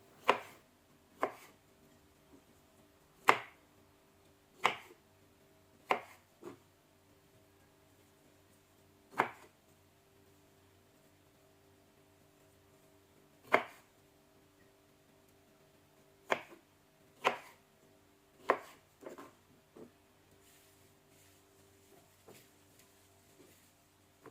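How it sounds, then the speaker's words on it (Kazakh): A knife chops strawberries and mint on a board for a mojito-style lemonade, giving quiet, crisp, irregular strikes spaced a second or more apart in an otherwise still room. "Мінекей клубникаларымыздың бәрін турап алғаннан кейін жалбызымызды да турап аламыз"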